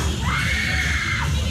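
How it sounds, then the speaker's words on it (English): A child screams at a Halloween haunt at Dorney Park, one sustained, shrill scream that carries over a steady crowd and ambient noise throughout. "That child is full of scream right there."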